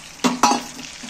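Spice paste ground on a grinding stone and its rinse water splash into a hot frying pan for a bean patturi, two quick loud bursts of sizzle settling into a softer crackle, close and without voices.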